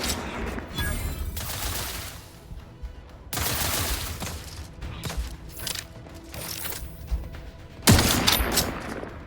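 Gunfire in The Outer Worlds 2 video game: bursts of shots and mechanical clatter come in several loud clusters with brief lulls, the final blast the sharpest, and no talking.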